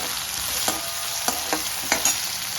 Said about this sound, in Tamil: இப்போ தக்காளி வதங்கும் போது சும்மா ஒரு நாலு கல் உப்பு போட்டோன்னா ஈஸியாக வதங்கிடும்